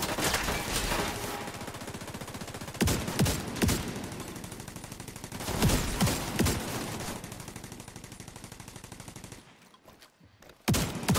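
Video game gunfire in a continuous automatic stream that keeps going for most of the stretch, with heavier bursts at intervals, then a brief drop and a final loud burst.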